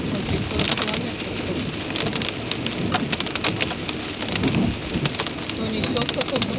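Heavy rain pelts the windshield of a car moving slowly through a downpour, a dense continuous patter with sharper drop hits and road rumble beneath, steady and close.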